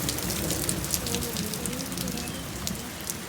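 Steady rain falling and pattering on surfaces during a thunderstorm, a dense close hiss that stays loud and even throughout, with no clear voices.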